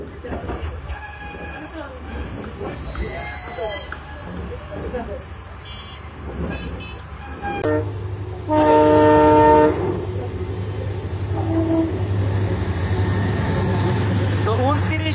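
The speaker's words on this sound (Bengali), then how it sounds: "এখন আমাদের ট্রেনটি আবারও জয়দেবপুরের দিকে এগিয়ে যাচ্ছে।" A commuter train heading toward Joydebpur rumbles along its tracks with steady wheel noise, then a loud, sustained horn blast and a low heavy drone as another train passes close by.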